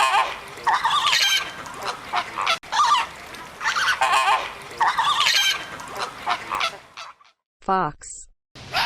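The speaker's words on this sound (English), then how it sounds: "flamingo" Flamingo calls, a run of loud, close, nasal honking bursts in quick irregular groups, ending with a few sparser, higher cries after a short pause.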